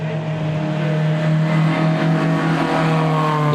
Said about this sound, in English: Beautiful Aston Martin DB4 GT.